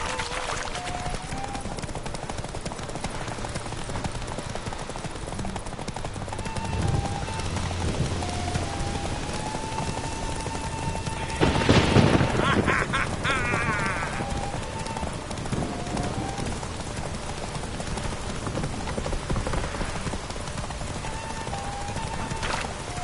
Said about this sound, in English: Run, Roach. Go on! Faster! Faster